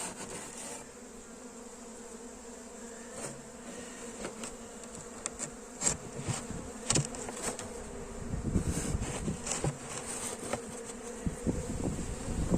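Honeybees buzz steadily while a swarm is caught in a foam box, a close, continuous hum with scattered rubbing and handling knocks that grow busier toward the end.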